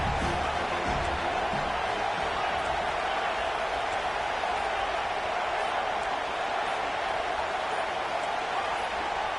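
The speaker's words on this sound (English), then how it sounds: "with this place rocking, the crowd forces a false start" In a college football video game, a loud stadium crowd roars in a sustained wash of cheering and noise, with a commentator's voice running over it.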